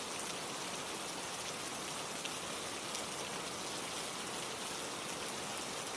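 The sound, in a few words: rain falling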